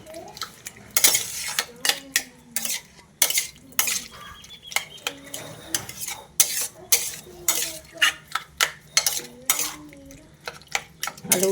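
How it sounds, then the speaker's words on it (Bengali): A spatula stirring fish through poppy seed paste in a metal pan, with a run of sharp scraping clinks over a soft sizzle, close up; faint vocal sounds show through in places. "মাছগুলো একটু গোটা গোটা রয়ে গেছে ওই জন্য একটু খুন্তি করে ঘেটে নিচ্ছি"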